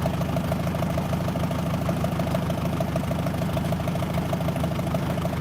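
A Farmall tractor engine runs at a steady idle, a constant low rumbling drone with an even mechanical pulse, close and moderately loud throughout with no talking.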